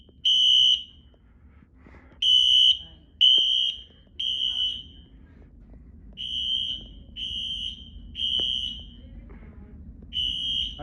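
Wheelock Exceder HSR fire alarm horns sound during a fire alarm system test at a neighborhood club in Grosse Pointe, Michigan, giving loud, piercing repeated blasts of about a second each, separated by short gaps, over a low background rumble.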